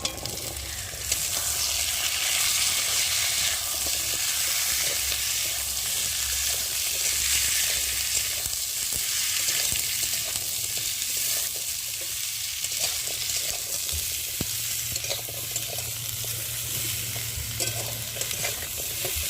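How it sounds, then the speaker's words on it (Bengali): Cut drumsticks and potatoes frying in a pan, a steady loud sizzle with occasional stirring scrapes that runs on without talk. "এখন আমি এই যে কেটে রাখা সজনে ডাঁটা আর আলু দিয়ে ভালো করে কষিয়ে নেব।"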